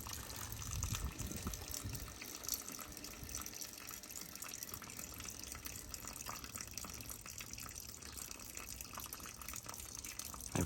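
Water rushes steadily into a home boiler system as its pressure is topped up, a faint continuous gushing flow with no talking.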